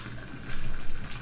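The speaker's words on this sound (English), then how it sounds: "I'm gonna dump out the water." Boiling water from a pot of cooked chicken is poured into a kitchen sink, giving a brief, fairly quiet splashing gush that swells slightly partway through.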